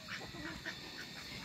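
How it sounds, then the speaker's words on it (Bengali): A small group of village ducks calls in short nasal quacks, a few rapid bursts close by against faint background noise. "এগুলো আমার হাঁস।"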